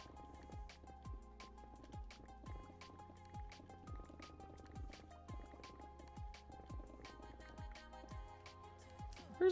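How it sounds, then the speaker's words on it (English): Flowing water in a Minecraft-like video game, a faint steady trickle with soft repeated dripping and watery plinks in a regular rhythm under quiet game sounds. "Where's this water coming from?"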